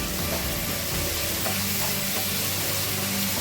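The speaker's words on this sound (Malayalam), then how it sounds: "ഇതിനകത്തേക്ക് 3 പച്ചമുളക് നീളത്തിൽ ഇട്ട് മുറിച്ചതിട്ട് കൊടുക്കുന്നു." Green chillies slit lengthwise sizzle in a pan with onions and crushed ginger, a steady close frying hiss with faint stirring clicks throughout.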